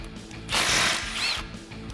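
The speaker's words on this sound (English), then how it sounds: "I'm using an 18mm swivel socket with an impact gun" An impact gun with an 18mm swivel socket spins a nut off during steering stabilizer work on a Jeep Wrangler JK, giving a single close, loud burst of rapid rattling hammering lasting about a second.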